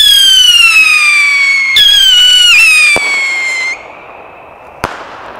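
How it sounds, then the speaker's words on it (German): Whistling mini rockets shriek with falling tones, then sharp loud bangs and cracks as they burst, close by and loud. "Mini-Raketen"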